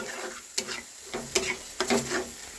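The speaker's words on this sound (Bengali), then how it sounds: "এবারে সব নেড়ে নেবো একবারে" Spice masala with cashew, melon seeds, raisins and tomato paste stirred in a pan, soft scraping strokes over a low sizzle, with a few distinct stirs close by.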